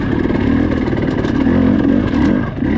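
A dirt bike engine chugging at low revs in the desert near Hemmingway Butte, a loud, close, steady throbbing with a slight rise and dip in pitch, no voices over it.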